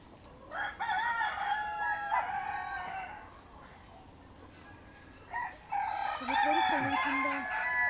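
Roosters crowing loudly in two long calls, separated by a quieter pause with clucking, up close in a busy zoo poultry enclosure.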